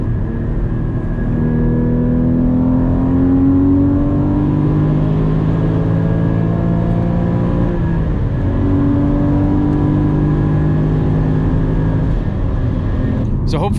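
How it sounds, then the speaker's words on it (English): A Porsche GT4 with stock exhaust driving at night, its engine droning loud and close from inside the cabin with rising and falling pitch as it accelerates and shifts, intake and exhaust both audible. "Even stock, this exhaust sounds amazing."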